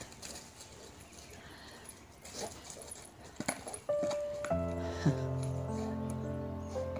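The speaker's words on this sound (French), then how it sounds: "Mon chien se tape un délire avec un pot de fleurs." A dog plays with a flower pot outdoors in a forest, making scattered light knocks, scuffs and clatters. Music comes in partway through.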